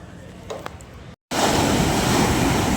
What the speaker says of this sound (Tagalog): medyo kalma-kalma na yung dagat natin